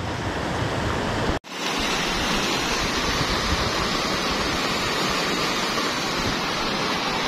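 A Semeru lahar flood rushes down the Mojur river past a village where the embankment has broken, a loud, dense, unbroken roar of churning water heard up close, briefly cut near the start.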